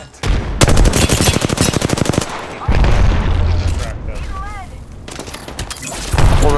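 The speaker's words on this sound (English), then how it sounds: "Whole other team, why are they both shooting us?" Rapid automatic gunfire crackles through a video game firefight in loud bursts, with bangs and booms interleaved, overlapping constant talk from players.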